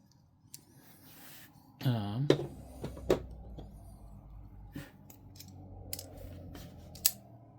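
A few sharp metallic clicks and snaps from a regular plunge lock on a folding knife, with some scraping and rustling in between and quiet background sounds.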